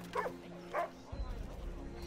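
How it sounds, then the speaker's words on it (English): A puppy in Assassin's Creed Rogue gives two short, close yips about half a second apart, followed by low rumbling game ambience. "Oh, puppy."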